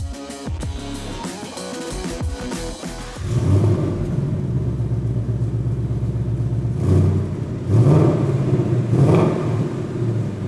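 A 2018 car with Recaro seats accelerates on a test drive, its engine rumbling and revving steadily from inside the cabin, rising in two louder surges over a continuous low drone.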